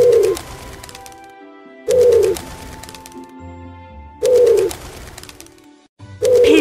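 Pigeon cooing in a children's animal-sounds game, repeated in three loud close bursts at even intervals, each followed by a soft musical backing tone.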